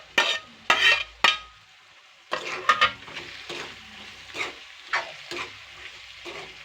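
Fried capsicum (dabbu mirchi) bhaji stirred in a pan, a few sharp scraping strokes, a pause, then a run of irregular scrapes and clinks over a low steady sizzle.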